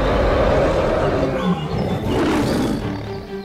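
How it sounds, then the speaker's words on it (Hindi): A lion gives a deep, loud, rumbling roar that rolls on continuously, close and unaccompanied by talk. "शेर उनके पास पहुंचा और गरजते हुए बोला"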